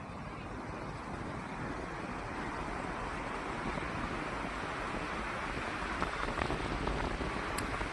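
Ocean waves break at Miramar beach in Goa, forming a dense, continuous roar of surf with wind rush against the microphone. The noise is fairly faint and steady, with no voices.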